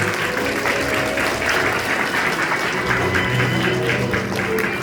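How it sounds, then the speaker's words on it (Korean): Warm applause fills a wedding ceremony hall, a dense, continuous clapping from the assembled guests that carries steadily throughout. "여러분께서는 다시 한번 따뜻한 박수 부탁드립니다"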